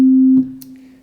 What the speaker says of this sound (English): I will play just a plain sine wave.